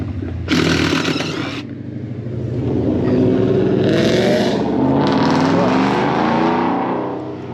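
A car engine with a loud Borla ATAK performance exhaust revs, raspy bursts of throttle rising and falling, while people talk nearby.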